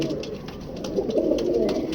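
Grey parrot chanda khani pigeons cooing close by, a steady low murmuring coo that continues throughout the clip with faint background clicks.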